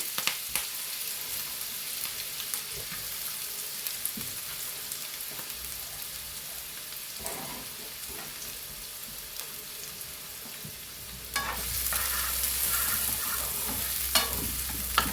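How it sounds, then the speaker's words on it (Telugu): Chopped onions frying in hot oil for a potato egg curry, a steady broadband sizzle throughout that swells louder and brighter in the last few seconds, with occasional scraping stirs. "చూడండి నూనె బాగా కాగింది, ఉల్లిపాయలు వేస్తున్నాను."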